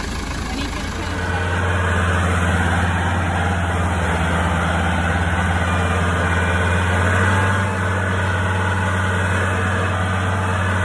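Tractor engine running steadily while mowing hay on a farm, a loud, close, continuous low drone with a sustained hum and a faint high whine throughout.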